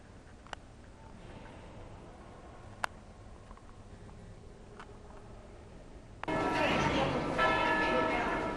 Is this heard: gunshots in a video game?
no